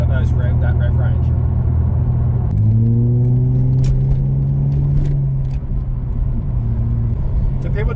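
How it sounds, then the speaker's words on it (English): A Ford EF XR6 Falcon's exhaust drones steadily as the car drives in third gear at 80 km/h, a loud low rumble that shifts pitch partway through, with a voice talking over it. "Exhaust sounds pretty good, even just dropping back in the third at 80 k's an hour"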